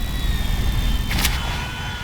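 An airplane in the video game GTA V gives a steady engine drone with thin high whining tones. A brief brighter rush of noise rises near the middle of the clip.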